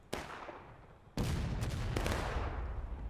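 Heavy artillery blasts boom in a Civil War battle video game, one sharp explosion followed about a second later by a louder, sustained rumble with overlapping cracks of gunfire, no voices.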